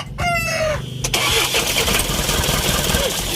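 An Isuzu 4HG1 diesel engine, being troubleshot for a no-start fault, cranks briefly and then catches, settling into a loud, steady, rough idle close to the microphone, with a rooster crowing in the background.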